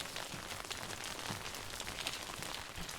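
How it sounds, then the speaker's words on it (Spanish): Heavy rain falls on a quiet street in Ponte de Lima, Portugal, making a steady, dense hiss that fills the air without a break, with no voices over it. "bajo una lluvia bastante intensa"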